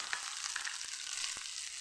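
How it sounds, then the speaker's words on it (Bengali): Potato pieces fry in hot oil in a pan with a continuous bright sizzle and a few faint clicks of stirring, heard alone and close. "তার ভিতরে আমি আলুটা ভেজে নেব।"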